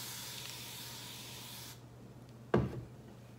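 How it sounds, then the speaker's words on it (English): A spray bottle of water mists hair in a steady hiss for almost two seconds, then after a short pause comes a louder, sharper single spray burst. "First things first, my handy dandy spray bottle of water."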